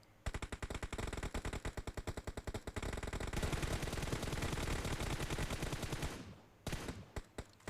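Rapid automatic gunfire in PUBG Mobile's training mode, shooting at cardboard targets: loud, evenly spaced bursts of shots, then a denser continuous stream that cuts off abruptly, followed by a few last scattered shots.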